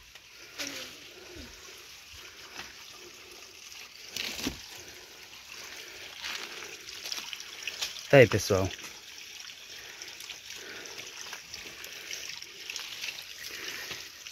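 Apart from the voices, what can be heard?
water trickling from a spring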